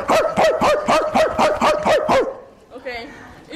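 A person imitates a dog, giving about eight loud, evenly spaced woofing barks in quick succession, followed by a brief whimpering or yelping sound at the end.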